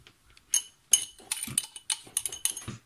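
A metal spoon clinks against a bowl in a kitchen as sugar is added to butter for a yogurt cake, giving a quick run of bright, irregular taps and scrapes that are close and fairly quiet.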